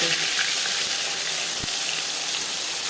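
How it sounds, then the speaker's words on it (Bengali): Cumin seeds frying in hot refined oil give off a continuous, loud, even sizzle that hisses close up. A single soft knock sounds partway through. "কুড়ি পঁচিশ সেকেন্ড জিরে ভেজে নেওয়ার পর দিয়ে দেবো মশলার"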